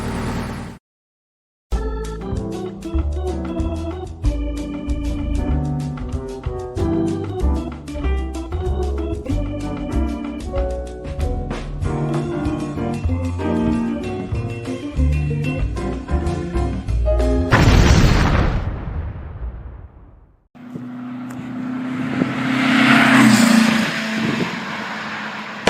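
A Volkswagen car pulls away and drives on the road, its engine a steady close drone that swells and dips through gear changes, then fades into rushing road and wind noise toward the end.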